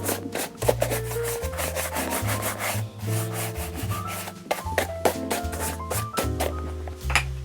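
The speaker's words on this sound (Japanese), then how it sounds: "でまずは軽くほこりを落とします" A leather semi-brogue shoe made of fine baby calf, fitted with a shoe tree, is brushed to remove dust: steady, close, rapid rubbing strokes over soft background music, with no talk.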